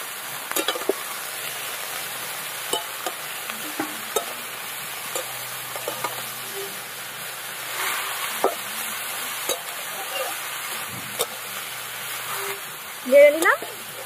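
Shredded cabbage fries in oil with asafoetida, salt and turmeric, stirred with scattered light scrapes and clinks of a spatula over a quiet, steady sizzle; a brief louder clatter comes near the end.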